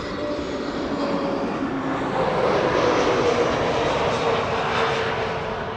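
A KLM Boeing 777-300 arriving at Amsterdam Schiphol on the Kaagbaan runway, its jet engines producing a loud, steady roar that swells slightly mid-pass and holds without talk.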